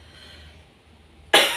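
A single sharp cough bursts out near the end after a quiet stretch, loud and close.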